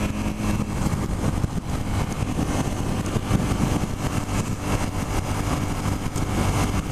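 Suzuki SV650 motorcycle engine pulling steadily at around 5,000 RPM while riding at about 45 mph, a constant dense drone with wind rush and no voices.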